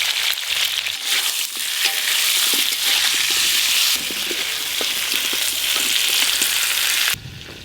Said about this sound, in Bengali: এই যে কড়াই তেল দিয়ে দিলাম, আলু পেঁপেগুলো ভেজে নেব।